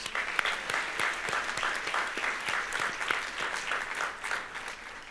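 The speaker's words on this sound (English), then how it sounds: "But another round of applause for the committee," An audience at a Black History Month event gives the organizing committee a round of applause: a dense, steady patter of many hands clapping together continues throughout at moderate loudness, with no talk.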